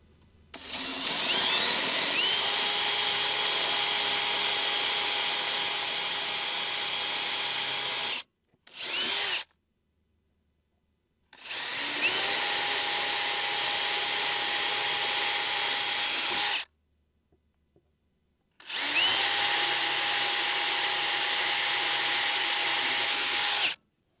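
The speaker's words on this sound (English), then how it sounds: "Now drill the pilot holes." A power drill bores pilot holes during a diesel heater tank pump install, running in three long, loud, steady whines separated by short pauses, with a brief burst between the first two.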